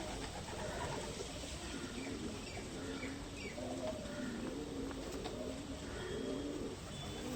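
Racing pigeons coo steadily in a loft, soft overlapping throaty calls repeating throughout, with a constant background hiss and occasional faint chirps and wing rustles.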